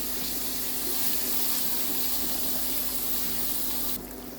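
Cubed fish frying in a hot pan with oil, giving a steady, dense sizzle that holds evenly throughout and drops slightly in level near the end.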